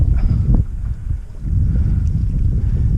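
Steady wind buffeting the microphone on a boat trolling for crappie on Pomme de Terre Lake, a loud continuous low rumble that dips briefly and then returns.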